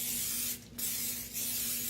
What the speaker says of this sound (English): So I'm going to spray this pan. It'll work with some cooking spray.